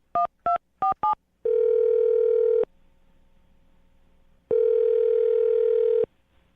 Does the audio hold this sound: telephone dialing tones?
yes